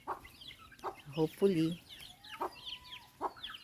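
Clucking from native chickens, a brown Rhode Island hen with her chicks, comes in short soft bursts with a few higher peeps, close by, while a person talks over parts of it.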